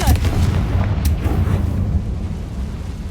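A Confringo fire-blast spell explodes in Hogwarts Legacy, a loud deep boom up close that rolls into a rumbling, crackling decay lasting a few seconds.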